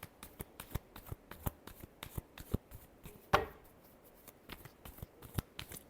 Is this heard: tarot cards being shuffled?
yes